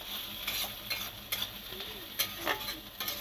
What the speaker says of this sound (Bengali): টমেটো কুচিটা দিয়ে আমি ভালো করে এটা আরেকটু ভাজা ভাজা করব।